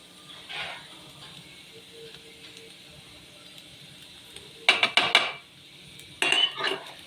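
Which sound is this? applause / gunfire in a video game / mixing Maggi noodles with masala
mixing Maggi noodles with masala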